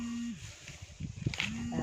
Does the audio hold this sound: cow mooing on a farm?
yes